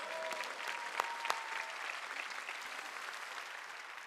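Congregation applause at a Wednesday church worship service, a dense, steady wash of clapping held throughout at low level, with a couple of sharper nearby claps standing out early.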